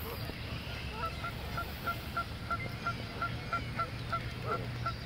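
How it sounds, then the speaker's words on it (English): Geese honking at a pond among ducks, a regular series of short nasal honks repeating roughly every quarter second, moderately distant, over a steady outdoor background hum. "These geese and ducks are not afraid of humans."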